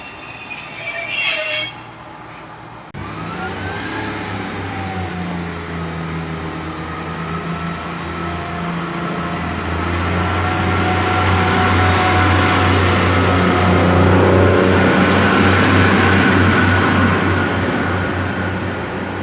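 Class 143 diesel unit 143-606 departs Cathays station on a service to Aberdare, a loud engine rumble building as it pulls away, with wheel squeal and a rising drone close by after a sharp start.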